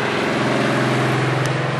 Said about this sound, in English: Low-speed cruising.